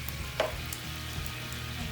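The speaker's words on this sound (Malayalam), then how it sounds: "ഇനി നമുക്ക് ചെറിയ ഫ്ലെയിമിലിട്ടിട്ട് നമുക്ക് വറുത്തെടുക്കാം" Chicken pieces for a tandoori-style chicken fry shallow-frying in a pan over a low flame, giving a steady, close hiss of sizzling oil with one faint clink, heard alone without talk.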